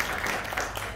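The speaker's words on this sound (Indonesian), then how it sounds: "Tepuk tangan untuk Tuhan" Church congregation clapping during a Sunday service, a brief dense wash of applause filling the room.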